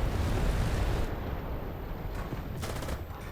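A tank cannon shot strikes a Tiger tank in the War Thunder video game, giving a loud, close blast with a rumbling boom that fades into a rolling tail.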